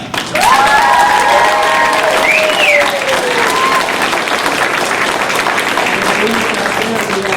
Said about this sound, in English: we will applaud for her for doing all the wonderful design.